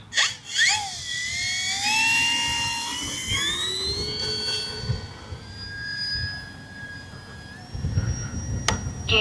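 An RC P-51 Mustang model plane's electric motor whines steadily with rising and falling pitch sweeps, loud and close throughout, with faint wind noise and no talking.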